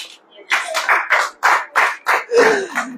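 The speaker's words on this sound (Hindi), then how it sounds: "ताली बजाओ।" An audience claps in short rhythmic bursts, about seven distinct rounds in quick succession, loud and close, in a church sermon setting.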